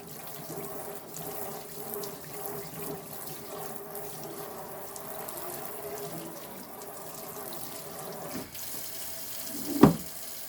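A running tap rinses soap out of laboratory glassware and test tubes in a sink, a steady close water rush with a brief louder splash near the end and no speech.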